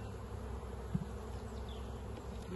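Honey bees buzz steadily around an open apiary hive during an April inspection, a faint, continuous insect hum close by with no talking.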